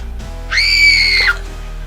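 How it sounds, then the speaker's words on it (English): A single loud, high, sustained scream, under a second long, cuts through a quiet night outside a camping tent, then stops abruptly and the calm returns. "That was a scream."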